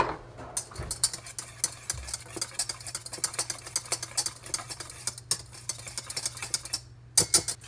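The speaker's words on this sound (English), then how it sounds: "Then we're going to want to whisk that together." Rapid, irregular scraping and ticking of a whisk stirring dry baking ingredients with salt in a bowl, close and fairly quiet, with a few brief pauses.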